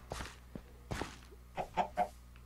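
Minecraft chickens clucking in short bursts, a few soft clucks followed by three louder, closer ones in quick succession, with no voices over them.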